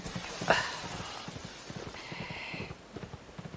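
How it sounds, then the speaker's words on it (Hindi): A horse gallops fast along a dark road at night, its rhythmic hoofbeats pounding steadily through the scene, with a brief sharp accent near the start and no voices. "ये कौन है जो अंधेर रात में घोड़ा दौड़ा रहा है वो भी इतने स्पीड में?"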